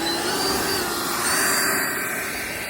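An FMS 80mm Rafale RC ducted fan jet taxis out in a backyard, giving a steady, loud whooshing whine with a faint high tone that holds level throughout.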